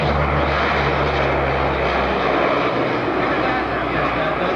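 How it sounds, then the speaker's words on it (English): Military aircraft making an assault strip takeoff and maximum performance climb at a 1995 Fairchild Air Force Base air show, a loud, steady propeller-engine roar that stays strong throughout, with an announcer talking over it. "Approximate an assault strip takeoff, a maximum performance climb."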